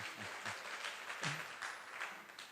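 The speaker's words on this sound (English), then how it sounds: "A better hand clap." A conference audience in Mbarara claps for about two and a half seconds, a soft, somewhat distant patter of hands with a few louder individual claps.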